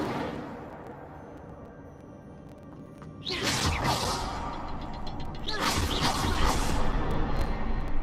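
Incendio fire spell in Hogwarts Legacy, two bursts of roaring, whooshing flame erupting after a quiet stretch, each loud and lasting a couple of seconds over low background ambience.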